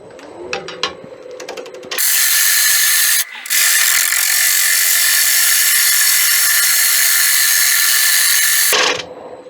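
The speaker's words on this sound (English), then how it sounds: "now I'm going to have to go back to the longer handled bowl gouge, just for leverage." A bowl gouge cuts a 17-inch acacia wood bowl spinning on a lathe, a loud continuous hiss-like cutting roar from about two seconds to nearly nine, briefly broken by a short pause, with a few sharp taps before it.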